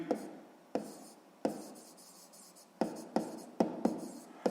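A hand writes out a sixth-grade math solution, with soft scratching pen strokes in short bursts separated by pauses and sharp taps as each mark begins, close and quiet.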